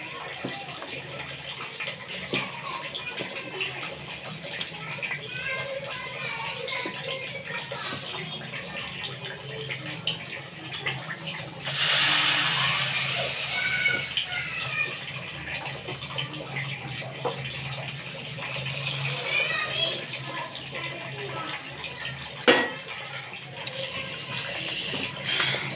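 A kitchen tap runs continuously, a steady close hiss of flowing water that swells into a louder gush about halfway through and then keeps running.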